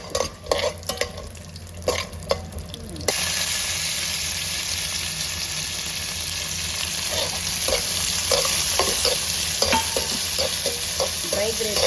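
Raisins fry in hot oil at close range, first with scattered clinks and stirring, then a sudden strong, continuous sizzle with occasional stirring taps.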